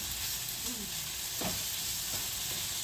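Dried rice noodles stir-fried in olive oil for Thai pad see ew, a soft steady sizzle with faint scraping of the spatula stirring through the pan, close and quiet, no voices.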